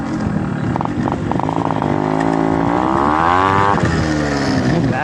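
Yamaha RXZ motorcycle engine, close and loud, with a few sharp throttle blips followed by a long rising rev that climbs and then drops back to a rough idle.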